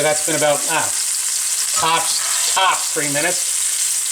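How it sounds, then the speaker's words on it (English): A fish fillet of fluke sautéing in a hot pan, a constant broadband sizzle running beneath a voice. "drop it in the pan, hear it start to sizzle, and let that saute"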